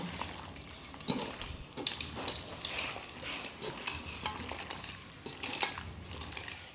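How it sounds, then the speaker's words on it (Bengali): Duck meat being mixed by hand with ginger, garlic, cumin and dry chilli paste: a steady run of wet, squelching stirring and kneading noises at close range, with no talking. "এবার এটা দিয়ে ভালো করে কিছুক্ষণ আর একটু মেখে নেব"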